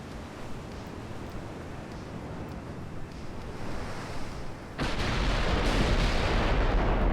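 Naval guns fire from warships in the Ultimate Admiral: Dreadnoughts game, a dull rumbling boom that builds over steady sea and wind noise, then gives way to a louder, sustained roar of surf and blast, with no talking.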